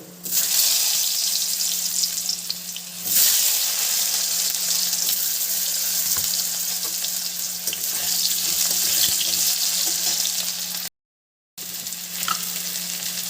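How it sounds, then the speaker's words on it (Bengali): Elephant foot yam, already boiled with turmeric, frying in hot oil in a kadai: a steady, loud broadband sizzle with faint stirring scrapes, briefly cutting out near the end. "তেলটা গরম হয়ে গেছে আর এবার ওল ভেজে নেব"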